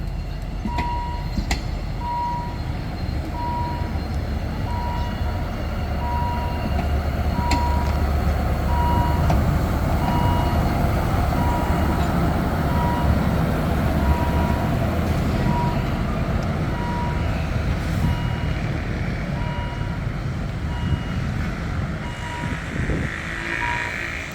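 A Henschel HAS 77 diesel shunting locomotive reverses at Makkasan, with a steady engine rumble and rolling rail noise, a repeating warning beep throughout, and a brief horn toot near the start.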